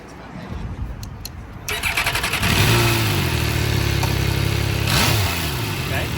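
An MV Agusta motorcycle engine starts at a demo day after a stretch of background noise and voices, then settles into a loud, steady idle with a brief rev near the end.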